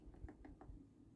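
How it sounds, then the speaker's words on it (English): Out on a nature walk, a woodpecker knocks on a tree somewhere distant, making a few faint, quick taps in a short rhythmic run over soft outdoor background noise. "Oh, I hear a woodpecker though."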